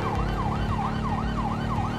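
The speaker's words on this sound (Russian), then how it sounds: "может поменять сирену даже. Вот такую сиренку скоростную, чтоб они реально быстрее уходили в сторону." A fast-cycling police motorbike siren from the game GTA 5 wails steadily up and down in a quick, regular sweep, loud and continuous over a low engine rumble, with no talking.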